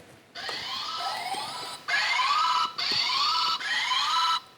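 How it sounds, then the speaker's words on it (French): Game show buzzers sound in four separate bursts during a test, each a sustained rising tone, the first softer and the next three louder, with short gaps between. "Les buzzers sont actifs, on peut encore les tester?"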